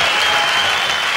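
Short burst of continuous, loud applause from a live 1977 rock concert crowd cheering the drummer, dense clapping filling the whole moment.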